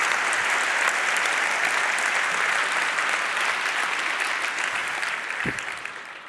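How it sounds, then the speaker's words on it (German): A large crowd at the 30C3 congress closing event applauds a project. The clapping is broad, even and continuous, eases slightly toward the end, and a brief low thump comes near the close. "Applaus für die Seidenstraße"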